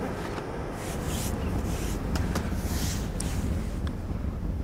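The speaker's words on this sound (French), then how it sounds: "le vent tire déjà super fort" Strong wind blows at a marsh in the Petite Camargue, a loud, continuous rushing buffet against the microphone with gusting surges throughout and no speech.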